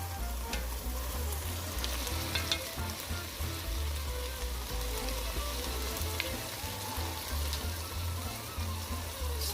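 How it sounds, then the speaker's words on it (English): Ground beef and chopped tomatoes sauté in a pan with a steady soft sizzle and intermittent scraping stirs, close up and continuous, with a faint low hum underneath and no voices. "Saute for another 5 minutes."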